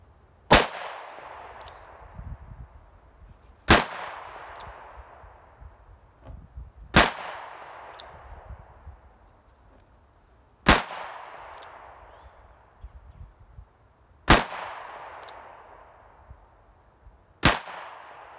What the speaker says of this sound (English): six more rounds of 45 long colt, 250 grain lead